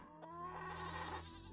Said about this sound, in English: Billy goat.